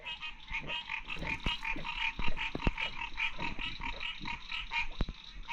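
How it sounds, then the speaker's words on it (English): Bullfrogs croak continuously in a chorus of overlapping deep calls and higher trills near a fishing spot, with occasional sharp knocks nearby and no voices. "Those bullfrogs are going."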